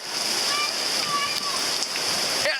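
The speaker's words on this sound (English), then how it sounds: "In Bexley, the moment a metre of water rushed down the street." A metre of floodwater rushes down a suburban street in Bexley, Sydney, during a severe storm, a steady broadband roar of moving water that holds loud and continuous throughout.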